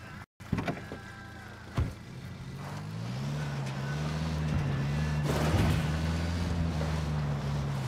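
Vehicle engine from Tom Clancy's Ghost Recon Wildlands, a steady droning hum that rises in pitch as the car pulls away and keeps running, with a brief thump near the start.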